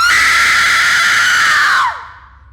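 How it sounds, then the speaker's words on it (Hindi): A single loud, sustained high-pitched scream from a person in an animated horror story holds for nearly two seconds, then breaks off sharply into quiet. "उसने एक जोरों की चीख सुनी"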